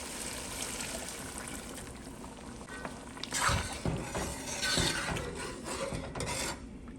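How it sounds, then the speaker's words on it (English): One cup of hot water poured into a pot of Jamaican stew beef sets off a steady hiss and sizzle, swelling into louder bursts midway as the liquid hits the hot meat. "Going to add 1 cup of hot water."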